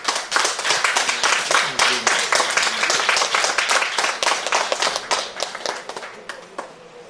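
Sustained audience applause at a municipal investiture ceremony for newly elected town council officials, dense hand clapping that stays loud for several seconds before thinning slightly toward the end.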